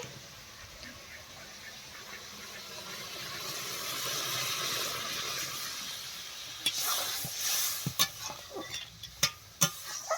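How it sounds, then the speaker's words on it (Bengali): Water poured into a hot pan of sautéed ridge gourd and potatoes gives a steady close hiss and sizzle that builds gently, then breaks into sharp, scattered crackles and pops near the end. "ঝিঙে আলুটা কষি নেওয়া হয়ে গেছে, এবার জল দিয়ে দিচ্ছি।"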